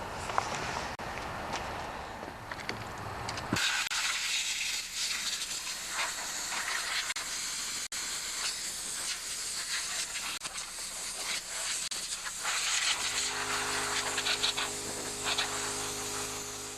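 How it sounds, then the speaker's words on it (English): Compressed air blasting from a compressor nozzle to clean a part of a John Deere 316 tractor, a loud continuous hiss that starts abruptly a few seconds in and runs steadily, with a humming tone joining near the end. "I'm gonna air blow it with the compressor"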